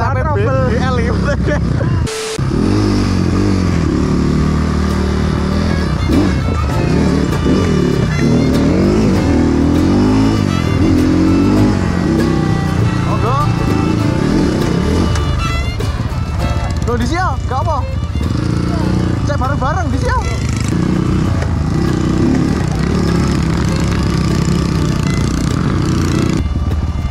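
A Kawasaki KLX motorcycle engine revs loudly and continuously at close range during a road race, its raspy drone rising and falling under steady talking throughout.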